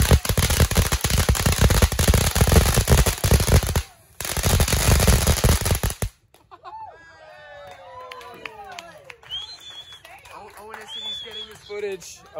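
Dense rapid crackling bursts of backyard Fourth of July fireworks for several seconds, then quieter outdoor sounds with scattered chirps and voices.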